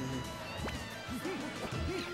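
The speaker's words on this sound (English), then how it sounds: "Oh, gets hit by his own bomb, I think." A bomb blast strikes a fighter during a Project M Smash Bros tournament match: one sharp crash lands in the middle of busy game music and effects, with voices nearby.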